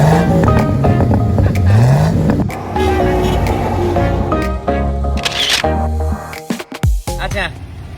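A Toyota Land Cruiser with over 350,000 km, engine running as it drives, with shifting tones and clicks throughout and people talking over it.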